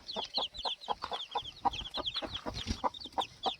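Free-range country chickens and chicks on a farm cluck and cheep in a busy overlapping chorus, with repeated short clucks and high chick peeps close by at moderate volume, and no talking.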